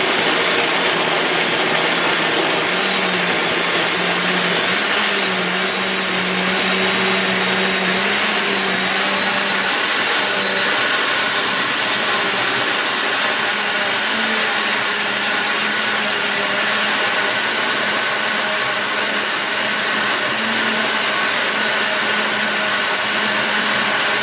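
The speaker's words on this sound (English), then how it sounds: "my blender is on high speed, and I'm going to press grate" A blender runs on its high-speed grate setting, grating coconut, with a steady, loud motor whine and grinding that holds continuously and close throughout, with no talking.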